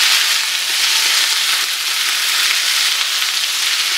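Potatoes fry in rendered pork fat (salo) in a pan and are stirred, giving a steady, close, loud sizzle that runs without a break and has no talk over it.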